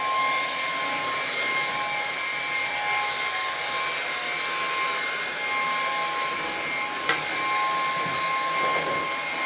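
A Lupe Pure cordless vacuum cleaner runs on carpet with a steady whirring drone and a thin high whine, one brief click near the end, close by and without talk.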